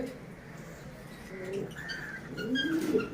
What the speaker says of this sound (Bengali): খুবই কিউট একটি কবুতর